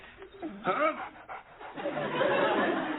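A dog pants and whimpers close by while people talk and laugh over it at a party.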